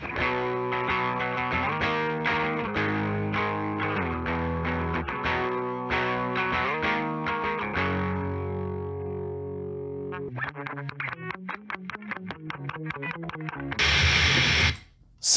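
Loud, heavily over-compressed, distorted music that breaks into choppy bursts, then a short blast of harsh, hissing white noise from the compression near the end.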